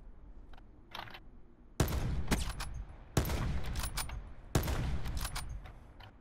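Bursts of distant gunfire crackle in a rapid exchange in the video game Call of Duty: Black Ops 4, three heavy volleys of overlapping shots with scattered single cracks between them, no talking.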